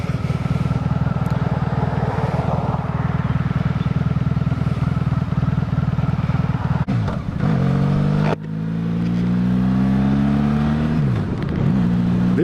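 A 1996 Honda Magna V45 V4 motorcycle idles steadily close up, then revs sharply twice, the pitch climbing and falling with each blip of the throttle.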